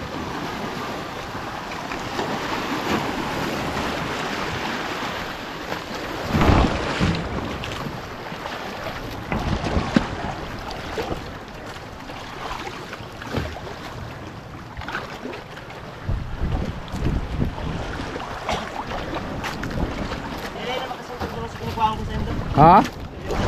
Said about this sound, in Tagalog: Ayan na po Martman yung bangka.